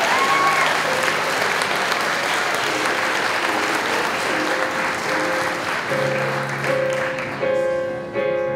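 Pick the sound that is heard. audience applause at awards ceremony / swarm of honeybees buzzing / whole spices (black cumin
audience applause at awards ceremony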